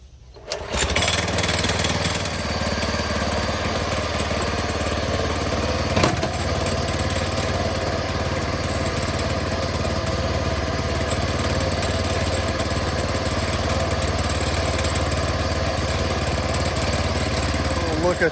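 A DR Power Wagon engine cranks and catches after a brief start, then settles into a loud, steady, close idle that runs unbroken to the end.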